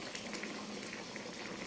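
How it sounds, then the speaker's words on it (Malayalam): A pot of sambar bubbles at a steady boil with a dense, continuous simmering hiss. It is close and fairly soft, with no talking. "ഇപ്പോൾ സാമ്പാർ റെഡിയായിക്കൊണ്ടിരിക്കുന്നു."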